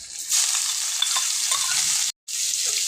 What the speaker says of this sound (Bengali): পেঁয়াজ কুচিটাকে এখন আমি দিয়ে দেবো